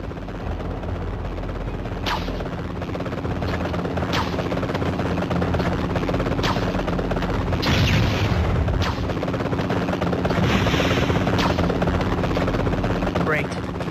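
A helicopter in the Spider-Man 3 video game, its rotor droning loudly and continuously along with game effects such as booms and gunfire-like bursts, while characters talk over it.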